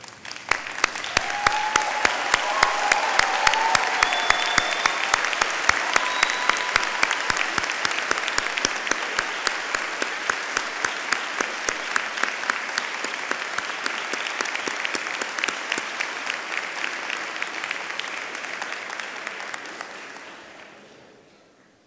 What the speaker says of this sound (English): give a round of applause to all those people who helped you in this marvelous achievement